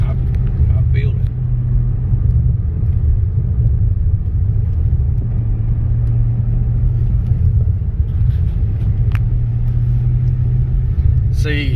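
A 2013 Mustang with a 5.0L engine rumbles steadily from inside the cabin on a test drive, a continuous low drone with people talking over it.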